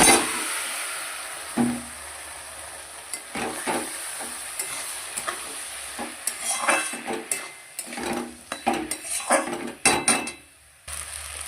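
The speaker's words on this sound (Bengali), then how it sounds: "ডালিয়াটা দিয়েও ভেজে নেবো" Vegetables and daliya frying in a pan, with a steady sizzle throughout and repeated clinks and scrapes of a stirring spoon against the cookware, close and moderately loud.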